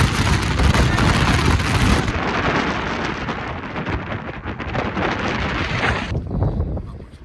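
Wind from an incoming storm front buffets a campsite, a loud, gusty roar with rumbling microphone buffeting that surges and eases, dropping off sharply near the end.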